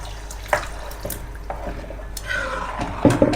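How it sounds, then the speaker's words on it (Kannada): Water splashes into a simmering gravy of spinach and butter paneer as it cooks, with a few soft splashes and drips over a steady low background and no talk. "ನಮ್ಮ ಗ್ರೇವಿಗೆ ಎಷ್ಟು ಬೇಕೋ ಅಷ್ಟು ನೀರು ಹಾಕ್ಕೊಳ್ಳೋದು."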